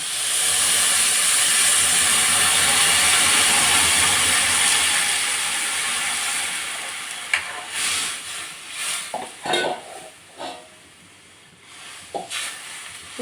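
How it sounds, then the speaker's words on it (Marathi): Loud sizzling hiss as water hits a hot pan of lentils for misal, fading over several seconds, followed by intermittent scraping and clinking of stirring. "तर आता आपण तिच्यामध्ये पाणी टाकूया शिजण्यासाठी"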